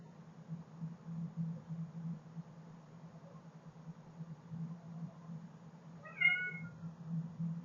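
A cat gives one short meow near the end, quiet and slightly distant, over a low steady hum.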